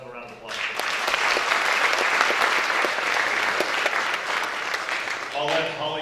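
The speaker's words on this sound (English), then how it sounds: "let's have a round of applause" Applause from parents and audience at a high school athletes' December signing ceremony swells into a steady, full round of clapping and then tapers, with brief talk just before and after.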